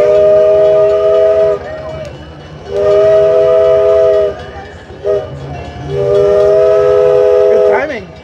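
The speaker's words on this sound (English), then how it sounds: "I think we'll take the train for a spin." A train at the Midwest Old Threshers Reunion in Mount Pleasant, Iowa blares its horn in three long, loud blasts, with rumbling rail noise in between and near the listener.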